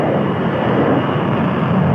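Jet aircraft at sea around a navy carrier group in old footage, its engine a loud, steady broadband roar that fills the whole stretch without a break.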